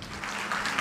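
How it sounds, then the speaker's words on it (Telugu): Audience clapping at a church anniversary gathering, a brief steady burst of applause filling the room at moderate volume. "చెర్యనయ్య గారికి ఎన్ని చప్పట్లు కొట్టినా తక్కువే."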